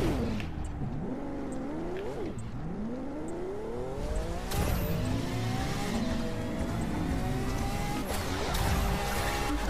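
Car drifting through Hollywood streets in Los Angeles in a racing video game, engine revving with rising and falling pitch sweeps under continuous tire noise, loud and steady throughout.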